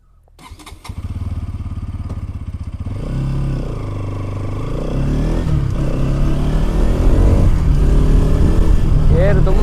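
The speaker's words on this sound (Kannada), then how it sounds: "ಬನ್ನಿ ಗಾಯ್ಸ್ ಇದ್ರದ್ದು ಒಂದು ಟೆಸ್ಟ್ ಡ್ರೈವ್ ಮಾಡುವ" A Bajaj Pulsar NS200, a 200cc naked sports motorcycle, starts with a few cranking clatters, settles into a close, loud idle, then revs repeatedly, the engine growing louder and rougher.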